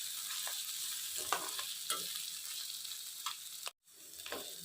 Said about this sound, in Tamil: மிளகுத்தூள் போட்டு நல்லா பிரட்டி விடுங்க